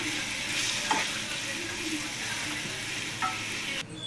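Grated mango chutney with chilli powder, mustard powder and salt is stirred in a hot pan, giving a continuous close sizzle with a few scraping clinks of the spoon, and no talk, until it cuts off near the end.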